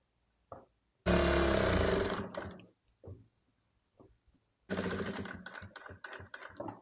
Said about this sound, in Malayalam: ഫോൾഡ് ചെയ്തിട്ട് സ്ലിറ്റിൻ്റെ ഭാഗം സ്റ്റിച്ച് ചെയ്തെടുക്കാം